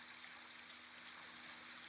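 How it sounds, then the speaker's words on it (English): A meandering stream flows steadily, a soft, even hiss of running water with a gentle trickling texture, faint and continuous with no other sounds. "There is something mesmerizing about the sight of water gliding over and around you."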